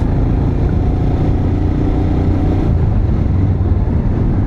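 A motorcycle rides along an Indian road toward Guwahati near the Teen Bigha Corridor, its engine a loud continuous rumble mixed with wind noise, steady throughout with no speech.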